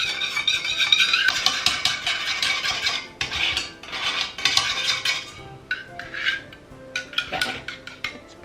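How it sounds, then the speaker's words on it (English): A spoon stirs and clinks against a container, dissolving gelatin in hot water for spiced Christmas biscuits, making irregular bursts of metallic scraping and tapping with short pauses, close and fairly loud, with no talking. "hold it over and give it a stir until that gelatin is completely dissolved"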